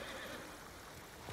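Horse whinny from the samurai action game Ghost of Tsushima, a brief neigh over steady game ambience, fairly faint and with no talk.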